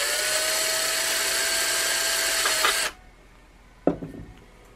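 Power drill boring a screw hole in a DIY ultraviolet-C sterilizer wand: a loud high whirring run for about three seconds stops abruptly, followed by a quieter room tone and a brief sharp clunk.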